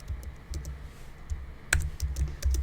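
Typing on a computer keyboard, a run of soft, irregular key clicks with a few sharper taps, close by and steady over a low background hum.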